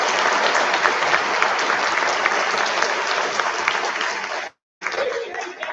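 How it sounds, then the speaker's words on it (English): An audience at a school band concert gives the soloists a long burst of dense clapping, with light chatter and laughter mixed in, before a short break and then a little more clapping. "We have another round of applause for all those soloists there."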